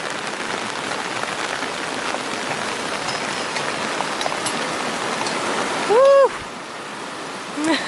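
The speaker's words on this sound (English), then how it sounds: "This is usually quite a calm little stream. Lots of rain." A small forest stream on the Rakiura Track, swollen by heavy rain, rushes loudly and continuously nearby, with a short whistle-like tone cutting in briefly near the end.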